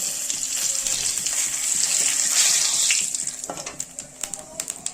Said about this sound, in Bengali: মাছ ভাজা তেলটার মধ্যে আমি দিয়ে দিচ্ছি তেজপাতা, গোটা জিরা